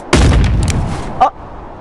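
A single loud gunshot blast in the video game Animal Company, followed by a brief, sharper report about a second later.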